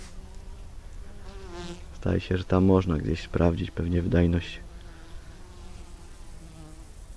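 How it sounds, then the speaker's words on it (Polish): Bees buzz steadily around globe thistle flowers (Echinops) outdoors, a continuous insect drone heard throughout, with someone speaking over it in the middle. "I praktycznie o każdej pogodzie na przegorzanie można spotkać"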